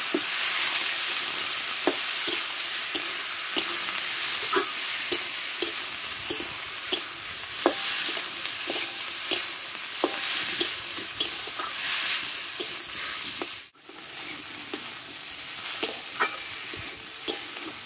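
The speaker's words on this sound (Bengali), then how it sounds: "দেখো শসাটা আমি ভালো করে কষে নিয়েছি, এবার নামিয়ে নেব।" Sliced cucumber stir-fried in hot oil in a kadai, a steady close sizzle broken by regular scraping and clacking stirring strokes, with no voices.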